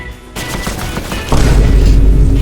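Gunfire in Fortnite during the final game of a tournament, a loud close burst of rapid shots that thickens into a heavy continuous barrage.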